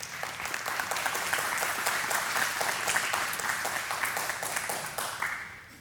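An audience applauding at a live Q&A talk, dense steady clapping filling the room at an even level before tapering off at the end.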